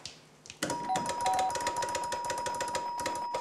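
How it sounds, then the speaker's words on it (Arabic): Electric apartment doorbell ringing insistently at a flat's front door, a sharp buzzing ring that repeats in rapid pulses for several seconds after a brief knock, loud and close. "هو الجرس ده بتاعكم يا سيد؟"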